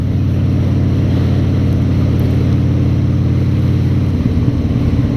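Multiple motorboats run together on the water, a loud steady engine rumble nearby that changes pitch toward the end as one boat's motor shifts.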